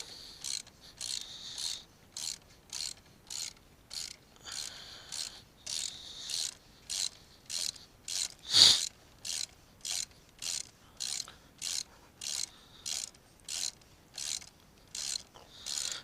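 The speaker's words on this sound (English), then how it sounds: "I'm using different pieces of tools here with the hex in order to tighten this." Ratchet wrench with a hex socket tightening the front wheel of a Yamaha FZ6 motorcycle, giving a steady run of about twenty-five evenly spaced clicking strokes, close and clear, with no talking.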